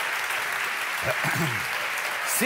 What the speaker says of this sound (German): Sehr großer Applaus, teilweise spitze Schreie aus dem Publikum.